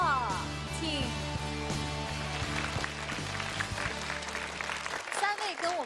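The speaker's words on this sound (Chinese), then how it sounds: "咱们再次用掌声欢迎他们来到中华情，好不好？" A studio audience at a televised Chinese variety show claps in a sustained round of applause under music, while voices talk over it and it fades near the end.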